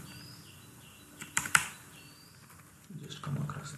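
A few computer keyboard keystrokes clicking close by, with a couple of sharp taps in the middle and quiet room noise around them.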